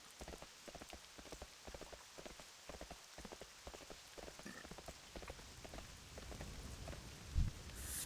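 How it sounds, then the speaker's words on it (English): Steady video game rain patters across the scene in World of Warcraft, with dense, uneven drops spread through the whole stretch and a brief louder thump near the end. "It is raining here, just like it's raining in real life."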